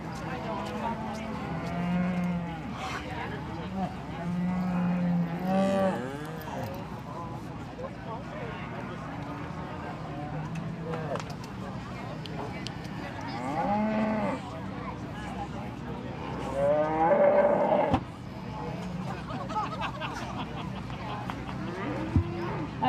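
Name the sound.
cattle mooing at a beef show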